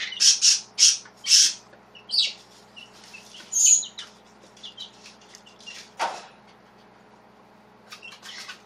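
A pet turkey squawks indoors, giving a burst of four quick loud squawks, then scattered single calls with pauses and a softer final pair, close to the listener and with no talking.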